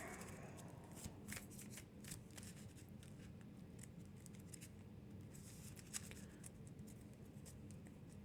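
Cards being shuffled for the Earthborne Rangers board game, a run of soft riffling and sliding card flicks, close and quiet, repeating in short bursts over a faint background.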